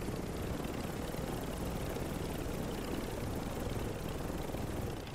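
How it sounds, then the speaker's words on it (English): Helicopter flying in the video game Warzone 3, a steady, loud rotor and engine roar that stays even throughout with no talking over it. "Goddamn helicopter!"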